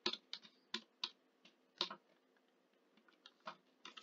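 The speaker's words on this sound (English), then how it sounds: "I'm just going to type in here" Typing on a computer keyboard: quiet, irregular bursts of sharp key clicks with short pauses between them, near and alone with no talking.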